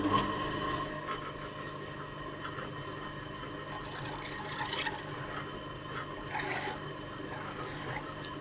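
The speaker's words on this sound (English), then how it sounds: "I've got a round file here. I'm going to use this just to start to kind of curve off some of the edges" A round file rasps steadily against a part spinning on a lathe in a motorcycle workshop while a Kawasaki GT550 is being worked on, with a continuous close gritty scraping over the machine's hum.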